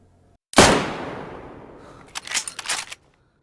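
A single loud shot from a bolt-action rifle in DayZ cracks out and decays with a long echo. A few quick mechanical clacks of the bolt being worked follow, with nothing else heard.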